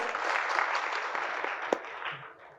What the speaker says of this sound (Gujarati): જોરદાર તાળીઓ યુનિવર્સિટી માટે